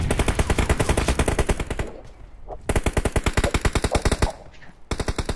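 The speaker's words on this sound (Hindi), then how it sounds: "पेड़ के पीछे रैंडम फायर कर, इस पेड़ के पीछे।" Rapid automatic gunfire in the mobile shooter BGMI (Battlegrounds Mobile India), with two long sustained bursts of evenly spaced shots, a short pause between them and a final brief burst, loud and close with no talk over it.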